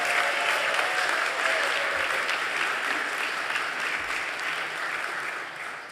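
Steady applause from a crowd at a university awards ceremony, dense clapping that holds for several seconds and slowly eases off toward the end.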